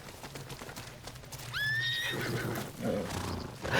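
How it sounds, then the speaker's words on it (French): In the video game Ghost of Yotei, a horse gives a loud rising neigh partway through, with hoofbeats and busy in-game rustling running throughout. "là j'étais en train de voler le cheval de quelqu'un d'autre"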